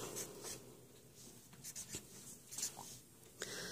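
A pen writes on paper during a chemistry practice problem, faint scratchy strokes in short irregular bursts, quiet and close with no voices.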